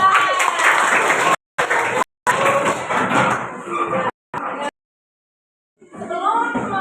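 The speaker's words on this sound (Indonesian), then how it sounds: "Oke, tepuk tangan." A class of schoolchildren claps hands together in a loud, dense burst of applause that stops and restarts in several short rounds, with brief gaps of silence before a final round starts up.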